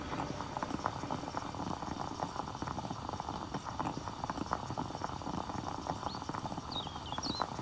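Coffee brewing on a stove in the survival game Mist Survival, a continuous faint bubbling, simmering texture with small crackles throughout, steady and alone.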